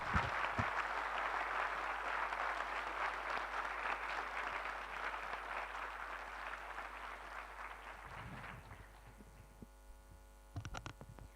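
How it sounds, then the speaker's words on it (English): Sustained audience applause at a conference panel, dense clapping that carries for about eight seconds before thinning into a few scattered claps, with a steady electrical hum underneath. "Round of applause here."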